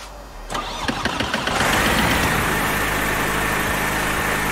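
A DR401 light aircraft engine in the X-Plane 11 game cranks with a few rapid starter chugs, catches, and settles into a loud, steady droning idle.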